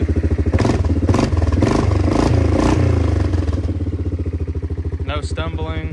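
A 1998-2001 Yamaha Grizzly 600 4x4 ATV with a carburetor engine idles steadily and close by, a smooth even low rumble with some clattery mechanical noise, while a person talks over it.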